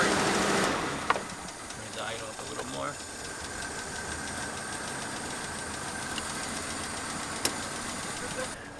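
A small carbureted engine, its idle screw just adjusted, runs with a smooth, even buzzing hum at steady speed, with a couple of sharp clicks, after a brief louder opening burst.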